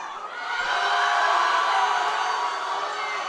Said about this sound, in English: Now the crowd is really getting behind her again.